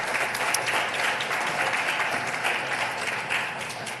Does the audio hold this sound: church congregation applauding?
yes